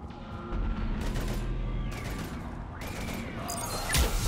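Rapid gunfire in Mass Effect 3 as soldiers shoot at attacking husks, a dense continuous barrage with bursts of loud shots and metallic clanks over a low rumbling game backdrop.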